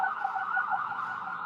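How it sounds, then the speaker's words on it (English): A wailing emergency vehicle siren sounds continuously at a steady moderate level, somewhat distant, with no talk over it. "Did you hear the siren?"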